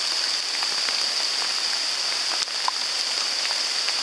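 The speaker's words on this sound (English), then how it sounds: "And I came especially because it was raining" Steady rain falling in wet woodland near a home, a dense even hiss of drops on leaves with a few close individual drips, continuous and without voices.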